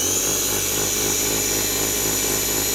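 A slot car motor on an NSR chassis runs on a test bench for an RPM check, a steady high-pitched electric whine with a constant hum, continuous and close.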